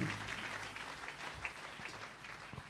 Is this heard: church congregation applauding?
yes